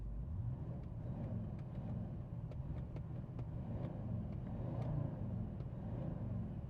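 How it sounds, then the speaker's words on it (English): A VW Touareg R50 with a V10 diesel engine idles and revs in a low, steady rumble that rises and falls gently, close by and continuous with no talking. "this is one of those cars that moves when you rev it"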